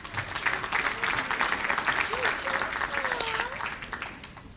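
Audience applause for a group of elementary school counselors called forward for a photo at a school board meeting, steady clapping filling the room for several seconds, with faint voices and whistles under it before it tapers off.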